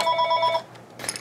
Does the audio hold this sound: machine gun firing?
no